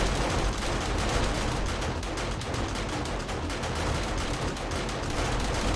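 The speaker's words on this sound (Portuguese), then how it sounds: "Estão todos cruzando a escada, tomando tiro." Dense, rapid gunfire from base defences rakes zombies crossing a staircase during a blood moon in the video game 7 Days To Die, a loud unbroken barrage of overlapping shots with no talk.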